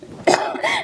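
A single short cough, close and fairly loud, with a rough throaty edge.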